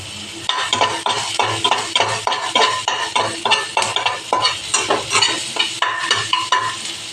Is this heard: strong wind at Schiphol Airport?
no